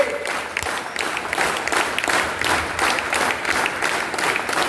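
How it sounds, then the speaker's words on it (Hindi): Loud, sustained applause from an audience at a talk on rural and cultural innovation, the clapping swelling in rhythmic waves across the room. "इस बार 10x ताली होनी चाहिए खुद के लिए।"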